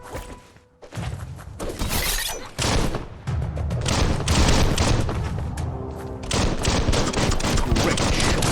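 Dense bursts of gunfire in the Biomutant video game, loud rapid volleys with shattering impacts that stop and resume several times, filling the stretch with game effects.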